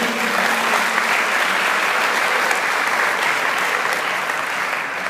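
A church congregation applauds during a sermon, a loud, continuous roar of many hands clapping that stays level throughout with no speech on top.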